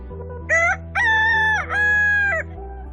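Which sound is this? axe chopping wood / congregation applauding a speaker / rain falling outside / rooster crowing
rooster crowing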